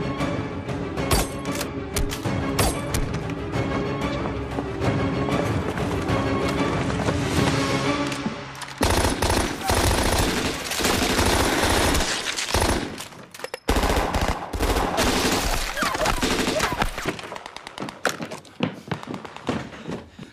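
Sustained bursts of automatic machine gun fire rip through an action-film ambush scene, loud and dense with rapid repeating shots, broken by short pauses and heavy impacts before the firing thins out.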